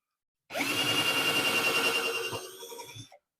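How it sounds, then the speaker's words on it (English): A power drill with a 1/8 inch bit whirs at high speed for about two and a half seconds boring a pilot hole for a lag bolt, its pitch dropping as it bores in, then winds down and stops. "then I'll go ahead and drill the next hole, get a lag bolt in there for those as well"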